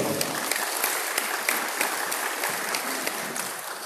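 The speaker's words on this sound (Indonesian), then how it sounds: "Tepuk tangan dulu." A crowd at a university graduation ceremony claps steadily, with dense applause holding at an even level throughout and no voices standing out.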